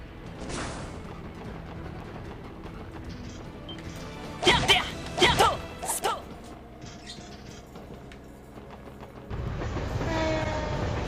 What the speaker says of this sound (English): Train! I like trains.